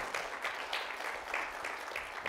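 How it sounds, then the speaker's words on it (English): Audience applause for an AV team at a church talk, a steady wash of clapping at moderate level with no voices over it for the whole stretch. "Let's give them a round of applause, everyone."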